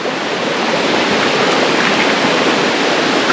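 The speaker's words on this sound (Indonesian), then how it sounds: "anak sungai dia memang best" A river stream at a campsite rushes steadily and loudly up close, a dense unbroken wash of flowing water with no voices over it.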